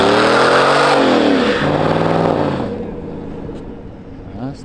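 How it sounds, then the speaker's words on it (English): A truck revs loud and close at a drag race, its engine note sweeping up and down before it launches and fades into the distance. "Got another truck matchup about to go."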